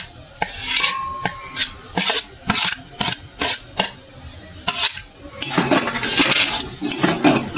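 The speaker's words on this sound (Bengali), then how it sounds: "এবার ভালো করে নারকেল ছাই মেরে নেবো।" Grated coconut is stirred into melting sugar in a pot for a pitha filling, giving a series of close, rhythmic scraping and rasping strokes. Denser continuous scraping takes over toward the end.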